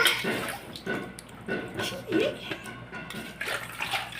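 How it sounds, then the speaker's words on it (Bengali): Water splashing and pouring during a small child's bath at home, uneven bursts of splashes and trickles up close, with an adult's voice talking over them. "স্নান করে নাও নিজে স্নান করে নাও হ্যাঁ মাথাতে নাও মাথাতে জল নাও"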